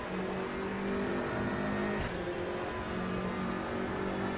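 BMW GTR3 race car engine droning close behind in RaceRoom at Road America, a steady loud whine mixed with the player's own car, holding nearly constant pitch throughout.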